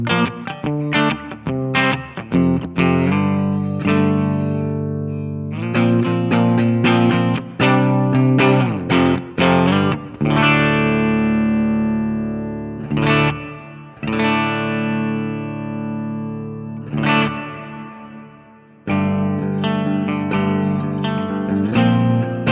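Guitar played through a NuX Atlantic pedal set to hall reverb, with loud chords and single notes ringing into long, spacious tails, several short pauses between phrases letting the reverb decay.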